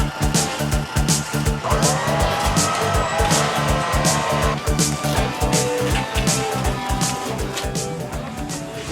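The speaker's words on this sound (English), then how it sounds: "Look at this great race car." A NASCAR race car roars at Tucson Raceway in Arizona, its engine note pulsing in rapid rhythmic bursts as it drives, loud and close throughout with a hint of tire noise.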